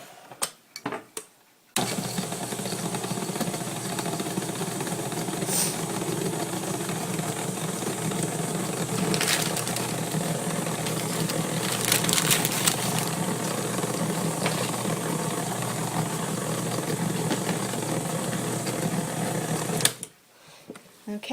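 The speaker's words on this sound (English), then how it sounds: "Now I'm going to go ahead and mix this with my mixer" Electric mixer beating oatmeal cookie dough with nuts, a steady close motor whir running continuously for most of the clip and cutting off near the end, with a few brief knocks.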